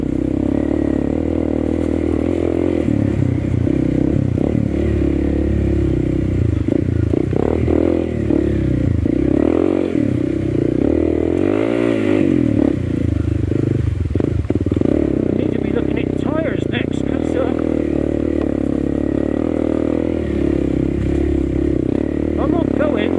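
Honda CRF301CC motorcycle on an offroad ride, its engine droning steadily throughout with surges of revving and some clattering over rough ground, a rider's voice mixed in.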